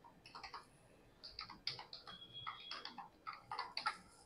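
Quiet, close typing on a computer keyboard while writing MATLAB code, with irregular clusters of light key clicks and short pauses, alone without speech.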